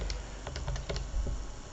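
Quick, light clicks of keys pressed on a calculator while a data table is entered, a steady irregular tapping at close range with no talking.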